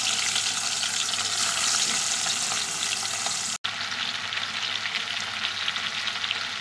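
Fish sizzling in hot mustard oil in a wok, with a dense, loud, continuous crackle close up and a momentary dropout midway.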